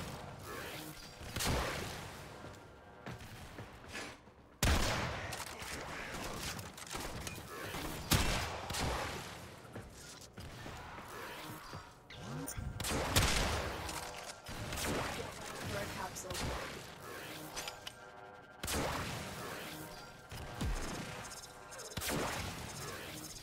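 Gunfire bursts from the video game Warframe, sharp repeated shots and rattling volleys in irregular clusters, loud and close amid mechanical clanks and game effects, with faint voices talking at times.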